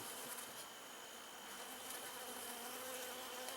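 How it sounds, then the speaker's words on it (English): Honeybees buzzing around an open hive during an autumn inspection, a dense, steady hum close by, faint and without talking. "Alright, so there's a good number of bees here and a lot of honey."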